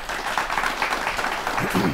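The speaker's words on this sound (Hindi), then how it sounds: "जोरदार तालियां बजा दी है आपने" Studio audience at a Hindi televised debate on a farmers' support scheme claps steadily for two seconds, a dense continuous patter close to the microphones with no voices over it.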